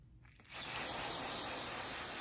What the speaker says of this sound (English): I'm just gonna make use of it and just spray it one more time